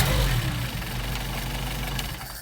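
A Mercedes 190SL engine on Solex carburetors idles steadily in cold weather, a close, even low rumble with a slight uneven knock that holds for the whole stretch, no voices.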